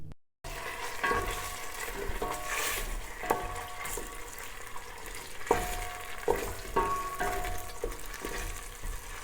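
Tomato paste, about two spoonfuls, cooking in a pan, giving a steady close sizzle broken by a few sharp stirring clicks and scrapes, with no voices.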